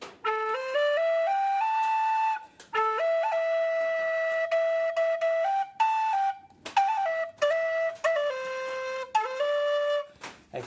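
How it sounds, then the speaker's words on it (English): Native American style wooden flute with a wider gap that gives a breathy, airy tone, playing sustained notes that slide between pitches in several phrases separated by short pauses, solo and close. "Not my actual melody, just the sound of the flute."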